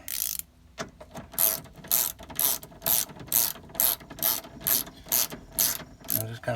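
Ratchet wrench clicking as it tightens 10mm bolts on a Ford window regulator frame, a steady run of about ten close, sharp ratcheting bursts in even rhythm, with no talking.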